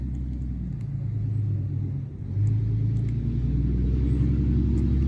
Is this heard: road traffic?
yes